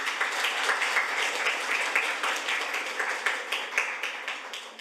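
Steady applause from an audience at a National Assembly research office briefing for reporters and aides, many hands clapping evenly for about five seconds with no speech over it.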